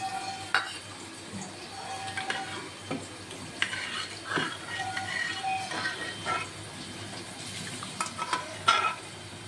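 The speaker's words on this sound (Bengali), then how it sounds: "এটা সরষা, কালো সরষা আর শুকনো লঙ্কা ফোড়ন দিয়ে ডালটা ছুলতে।" Mustard seeds, black mustard seeds and dry red chillies sizzle in hot oil as a tempering for dal, with a steady crackling fizz broken by sharp pops and light clinks of a spoon against the pan.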